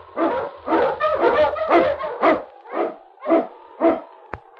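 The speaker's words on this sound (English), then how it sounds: "The Wonder Dog King, swiftest and strongest of Eskimo lead dogs, blazes the trail through storm and snow for Sergeant Preston" Eskimo sled lead dog in a Yukon radio drama barking loudly and close: about nine rough barks in a quick run that slows toward the end, with no talking over them.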